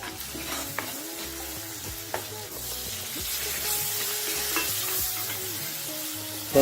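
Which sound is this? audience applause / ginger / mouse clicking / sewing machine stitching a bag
ginger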